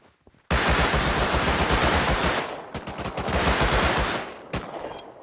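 Sustained automatic gunfire in the survival game Rust rattles loud and close in long rapid bursts, with two brief pauses before a short final burst, and no speech over it.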